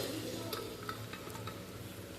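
Egg rice being stirred in a pan, a soft continuous scraping with light sizzling and a few sharper utensil taps, close and fairly quiet, with no one talking.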